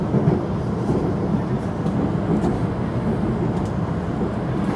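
Steady rumble and rattle of a Rapid Metro train in motion, heard from inside the car as continuous moderate rolling noise with no talking.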